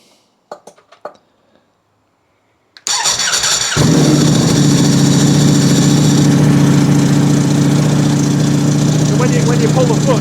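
A motorcycle engine cranks and fires up in a home garage after a few quiet clicks and handling sounds, then settles into a loud, steady idle close by.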